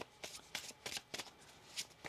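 A deck of tarot cards being shuffled by hand in a quiet room, close and crisp, with six or seven short riffling bursts spaced a few tenths of a second apart and no talking.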